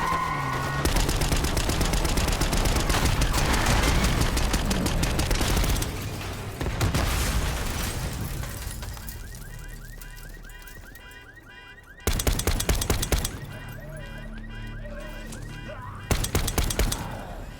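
Heavy gunfire in Call of Duty: Black Ops 6: dense, loud automatic bursts and sharp shots fill the opening, fade into a quieter rumble, then return as abrupt loud bursts near the end.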